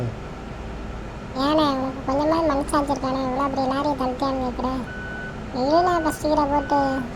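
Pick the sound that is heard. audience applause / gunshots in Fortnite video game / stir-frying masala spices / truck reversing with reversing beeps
truck reversing with reversing beeps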